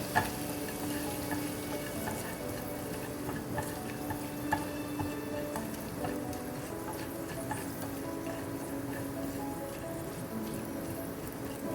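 A plantain and squash mixture, lightly sweetened, gets stirred in a pan: a soft, steady sizzle with occasional spoon clinks and scrapes, fairly quiet and without talk.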